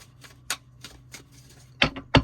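A few quick, crisp riffles and taps of tarot cards being shuffled, close and quiet, with short bursts near the end.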